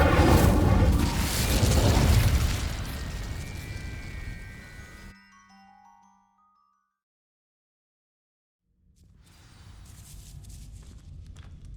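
Incendio fire spell setting dry vines ablaze in the video game Hogwarts Legacy, a loud rushing whoosh and roar of flames that fades into near silence, then a low crackling rumble returns.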